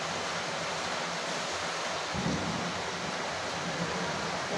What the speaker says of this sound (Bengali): রিম ঝিম বৃষ্টি দেখেন কত বৃষ্টি দৌড়ে পড়তেছে।